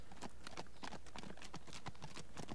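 Horse hooves clip-clopping in the video game Minecraft: Story Mode, a steady rapid rhythm of hoof beats alone, with no music, continuing throughout.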